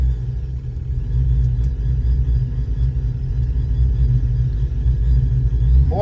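A car engine fitted with a TorqStorm TS84 supercharger runs under heavy boost, producing a loud, continuous low rumble with a slight rising drone throughout.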